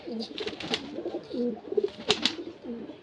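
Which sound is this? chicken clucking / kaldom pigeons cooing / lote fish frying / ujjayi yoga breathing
kaldom pigeons cooing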